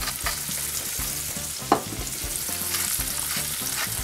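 Liver fries in a pan with a dense, steady sizzle and crackle, alongside regular soft stirring scrapes and one sharp clink, close and alone with no talking.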